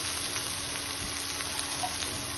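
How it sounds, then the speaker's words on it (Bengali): Mustard masala for pabda fish sizzling steadily in a pan after a little water goes in, a soft continuous hiss and crackle with faint stirring, fairly quiet and alone. "এই জন্য সামান্য একটু জল দিয়ে দিলাম, যাতে ভালো মতো কষানো হয়"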